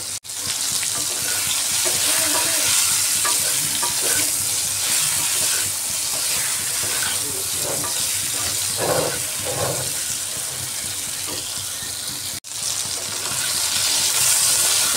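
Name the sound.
okra (bhindi) being stirred and fried in a pan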